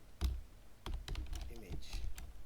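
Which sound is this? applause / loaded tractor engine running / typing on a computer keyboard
typing on a computer keyboard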